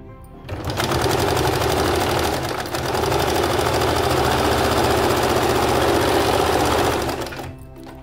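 Electric sewing machine stitching a child's kite salwar, running in one long steady mechanical whir for about seven seconds, with a short dip partway through, before stopping.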